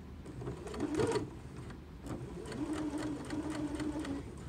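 Sewing machine stitching fabric along a seam toward a pin, a close, steady whirring hum that stays fairly quiet and runs in two short stretches with a brief pause between them.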